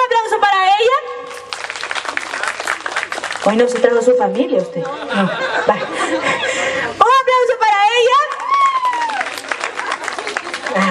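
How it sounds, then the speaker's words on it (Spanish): Scattered clapping and chuckles from a crowd at a ranch-style dinner party, mixed with someone speaking into a microphone and bursts of laughter. "Un aplauso para ella."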